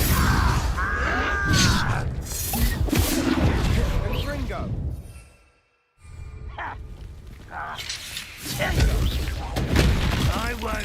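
A Confringo blasting spell in Hogwarts Legacy bursts into loud, booming explosions with crackling debris, amid battle noise and spoken game dialogue.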